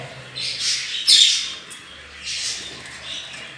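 Japanese bantam chickens in a coop give faint high chirps and squawks, with a couple of brighter louder calls near the start and a softer one later, over quiet background without talk.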